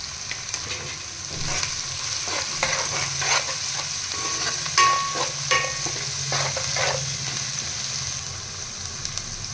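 Ginger fries in a pan for Kaju chicken masala curry, giving a loud, continuous sizzle close up. Repeated stirring scrapes and clicks run through it, with no voices.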